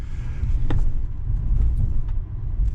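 A Chevrolet Silverado 3500HD Duramax dually pickup turns slowly through a parking lot, its diesel engine giving a steady low close rumble throughout, with no one talking.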